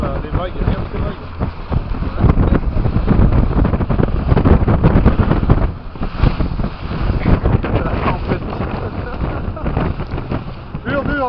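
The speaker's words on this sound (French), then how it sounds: "Les vagues, regarde ces vagues." Stormy wind roars over rough waves on the water during a catfish fishing outing, a constant loud buffeting wash with people talking throughout.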